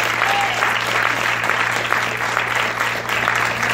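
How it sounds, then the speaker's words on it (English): Congregation clapping at a tent revival church service, a loud, steady wash of many hands applauding close by with a low hum underneath and faint voices. "give the Lord a hand clap tonight"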